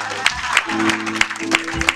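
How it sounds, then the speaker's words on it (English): A church congregation at God's Nation Worship Center in University Park, Illinois claps in unison, about six sharp, evenly spaced claps over a sustained instrumental tone, with faint voices behind them. "Let's give God a hand clap."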